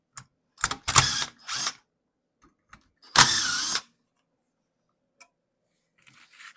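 Bolts come off the clutch cover plate of a Comet 102-C primary clutch in short ratcheting bursts, close and crisp, with quiet gaps between turns.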